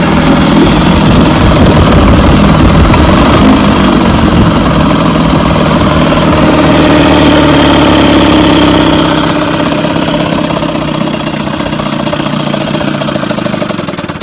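1968 Evinrude 18 HP outboard motor running after its fuel pump, carburetor and magneto were swapped, giving a loud, close, steady buzzing drone that eases slightly toward the end.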